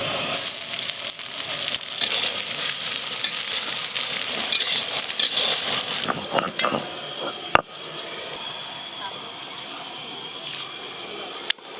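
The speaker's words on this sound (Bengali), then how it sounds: "বিনস আর গাজর ভাজা হয়ে গেছে, এবার ক্যাপসিকাম দিয়ে দেবো।" Beans, carrots and capsicum fry in a pan for fried rice, stirred with a steady bright sizzle that dominates the first half, then softens to a quieter, even crackle with a few sharp scrapes.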